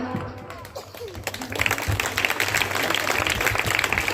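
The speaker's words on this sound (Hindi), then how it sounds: "ताली कस के बजाइए" Voices speak at first, then a crowd breaks into dense, lively clapping that continues steadily to the end.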